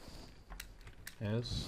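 Soft clicks of typing on a computer keyboard, a few scattered keystrokes spaced apart at low volume, followed by a brief burst of nearby speech.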